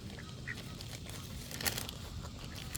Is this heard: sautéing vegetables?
no